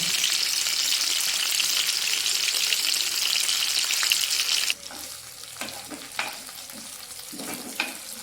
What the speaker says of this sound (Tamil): இப்போ நம்ம நண்டை போட்டுட்டோம். அது நல்லா பொரிஞ்சு வந்துட்டு இருக்குது